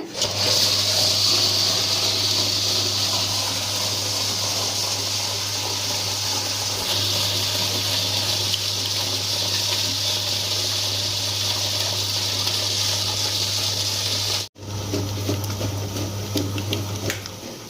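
A wet grinder churns soaked sorghum and flattened rice into batter, giving a steady, loud mechanical hum and watery swishing that runs unbroken except for one brief cut near the end.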